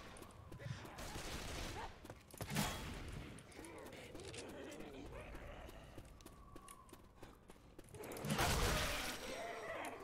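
Video-game gunfire crackles in rapid volleys, faint and fairly distant, with louder bursts near the start and end, while players talk throughout.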